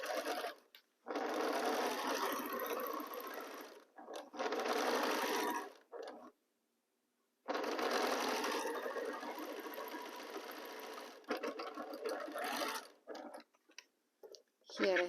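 A sewing machine stitching fabric triangles together with a quarter-inch seam, running in several bursts of rapid mechanical whirring separated by short pauses, up close.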